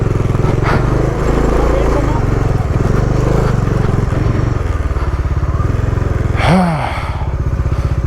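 A Bajaj Dominar motorcycle rides off-road on a rough mountain trail in Spiti, its loud engine droning steadily up close before a sharp rev rises and falls near the end.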